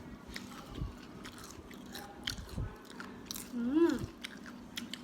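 Someone eats Lao-style papaya salad, making close, crisp crunching bites and wet chewing in irregular bursts, with quiet talk in the background.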